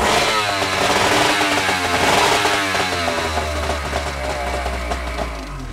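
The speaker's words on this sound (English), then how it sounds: "The right motor now." A boat's right outboard motor starts and runs loud and close, a steady buzzing drone with a revving edge that settles into an even idle toward the end.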